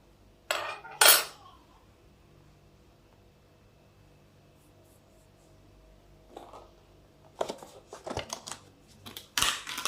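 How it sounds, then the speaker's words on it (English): Yeast and milk are mixed in a bowl, heard as sharp clinks of a utensil against the bowl followed by a burst of scraping and stirring clatter, with quiet gaps between. "Mix it together."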